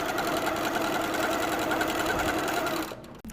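A sewing machine stitching quilt block triangles, a fast steady mechanical whir running close and loud before stopping abruptly near the end.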